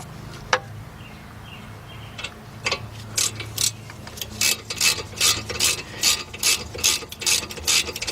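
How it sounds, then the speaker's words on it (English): A 3/8 drive ratchet tightens front brake bolts on a 2007 Audi A4 Quattro, giving fast bursts of sharp, close clicking in a steady back-and-forth rhythm that builds after a few quieter taps. "Okay, 3/8 drive ratchet."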